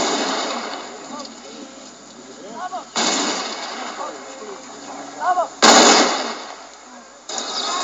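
Rifle volley fired by three IRA riflemen at a Belfast funeral procession in Andersonstown: a loud burst of sharp gunfire cracks, then a second volley a couple of seconds later, over a constant crowd murmur.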